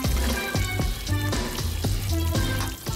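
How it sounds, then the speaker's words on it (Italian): Running water rinses shaving cream off a skateboard freshly painted with black spray paint, a loud steady splashing gush with rhythmic surges every half second or so, heard alone without voices. "Ok, ora sciacquo la crema da barba."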